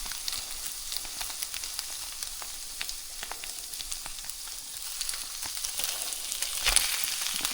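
Refried beans with jalapeños stirred in a skillet, giving a continuous close frying sizzle with light scraping and a brief louder scrape near the end, no voices.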